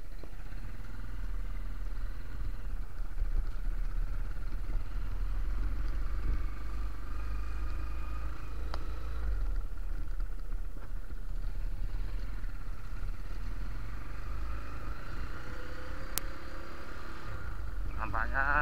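Motorcycles pass along a newly built, smooth village road beside rice fields on a morning commute, a steady engine rumble with passing vehicles over a constant low background.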